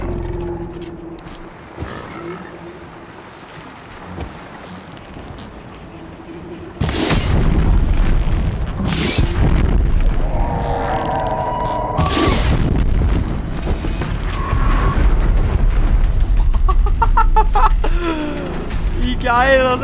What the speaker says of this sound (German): Ich liebe es, wenn die so dermaßen explodieren.